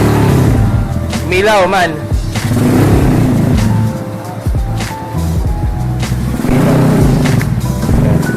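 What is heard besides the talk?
Yamaha YBR 125 motorcycle with bullet pipe exhaust riding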